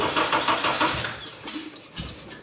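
A Honda K24 engine swapped into a Mazda Miata cranks and fires up with a loud, close, buzzy roar that wavers and dips over a couple of seconds.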